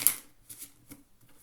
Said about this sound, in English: I'm just going to do a little bit of shuffling